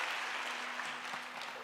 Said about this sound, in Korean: 우리 주님께 영광의 박수 올려드리기 바랍니다.